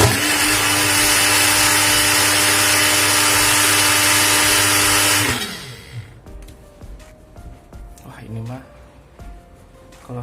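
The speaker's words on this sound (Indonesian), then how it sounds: "Jadi memang blendernya kecil, terus motornya juga kecil, nggak gede-gede amat, 300 watt" A Maspion mini blender with a small 300 watt motor runs with a loud, steady high whine for about five seconds, then winds down and stops, leaving faint handling noises and a voice speaking.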